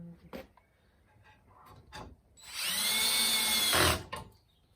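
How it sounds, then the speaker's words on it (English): A power drill drives screws into the wooden roof of a Flow Hive 2 beehive, one steady whirring burst of about a second, preceded by a few light knocks and handling noises, close and fairly loud. "And then we'll take and put our first screws"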